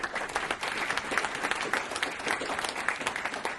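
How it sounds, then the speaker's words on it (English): Audience at a markets talk giving a round of applause, dense continuous clapping across the whole stretch, fairly close and full, with no speech over it. "If you guys can give them a round of applause."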